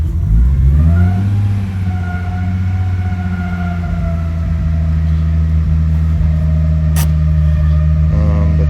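A 1994 Nissan Skyline engine just after a cold start, creeping forward in first gear: a steady, loud low engine drone that rises slightly in pitch early on and then holds even, close to the car.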